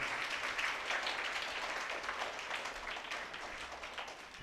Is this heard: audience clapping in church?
yes